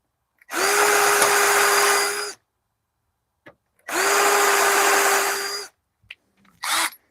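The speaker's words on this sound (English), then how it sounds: "take the stepper bit. Nice little stepper bit. And expand this hole a little bit, make it a little wider for the head of the screw" A power drill fitted with a step drill bit widens a screw hole in two long, loud steady whines, followed by a couple of short bursts and small clicks in between.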